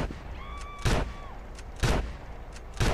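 Shotgun fire in GTA San Andreas Mobile, three loud booming blasts spaced about a second apart over steady game background noise with a faint tonal hum.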